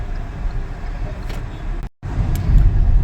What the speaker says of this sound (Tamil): Heavy traffic, moving traffic.